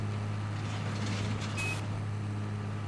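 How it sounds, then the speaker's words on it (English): A single short electronic beep from a farm vehicle in Farming Simulator 22 sounds once over a steady, droning engine hum. "There's a random beep coming along here as we are trying to get this all finished."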